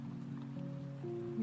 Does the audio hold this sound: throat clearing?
no